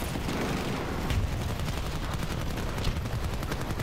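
Sustained gunfire aimed at a tank in the shooter game Battlefield 2042, a dense, continuous rattle of rapid shots with no clear breaks for the whole stretch.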